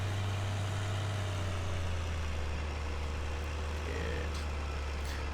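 A tractor engine in the video game Farming Simulator 2013 drones steadily at low pitch, a constant unbroken rumble with no change in load, mid-distance and moderately loud.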